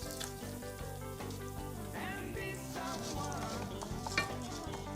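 Rice grains toasting in oil in a pan for arròs amb seitons, a steady close sizzle with stirring scrapes and a few clinks, sustained throughout with no talking.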